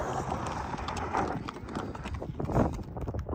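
Horse hooves clip-clop at a Mahabaleshwar photo spot, a steady run of close, fairly loud hoof strikes over busy background noise.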